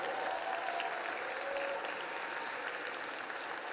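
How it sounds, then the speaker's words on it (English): A large conference audience at an Urban League plenary applauds affiliate CEOs with steady, dense clapping that holds at an even level throughout, with no voices over it. "So affiliate CEOs, stand and get your shine, get your applause."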